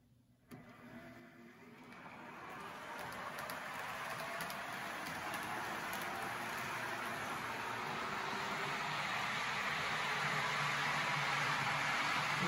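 A Model Power/Playart HO scale Shinkansen bullet train with two Lindsay motors runs along its track, a soft motor whir and rolling rush that starts after a faint click and slowly grows louder and steadier, with no talking.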